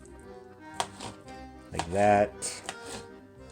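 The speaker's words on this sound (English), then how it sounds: "Now that the orange is peeled, I'm just going to start chopping them" A knife chops a peeled orange into bite-sized pieces on a cutting board, several soft irregular thunks under a person's speech.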